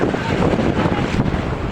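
Sea waves wash against the shore under strong wind, a dense, loud, continuous roar with wind buffeting the microphone and no voices.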